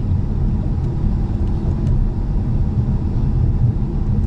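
A 2019 Ford Mustang GT Premium cruises at about 28 mph, a steady low engine and road rumble heard from inside the cabin.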